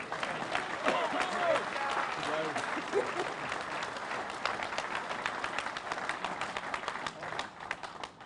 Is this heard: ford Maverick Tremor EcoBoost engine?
no